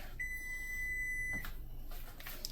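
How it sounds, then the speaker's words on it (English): A Sugarwhisk cupcake maker's timer gives a single sustained electronic beep lasting just over a second, fairly clear above a quiet room, followed by faint handling noises. "There goes my timer."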